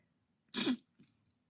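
One sharp, close allergy sneeze bursts out in a quiet room, followed by a faint short breath.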